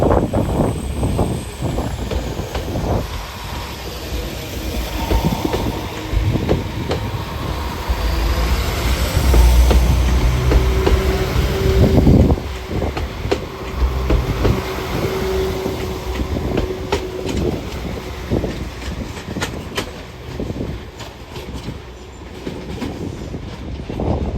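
A Class 196 train departs for Birmingham, its engine and wheels rumbling steadily with clattering rail noise and a brief squeal, loud and nearby throughout.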